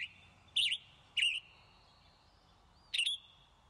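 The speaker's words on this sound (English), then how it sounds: "you could actually play the sound of this bird. You can hear what he sounds like." A phone app plays a recorded bird call: three short, bright, chirping bursts, each starting sharply after a thin sustained whistle, spaced irregularly over a quiet background.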